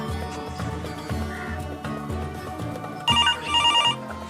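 Music plays at first, then a telephone bell rings in two short trilling bursts, loud and close.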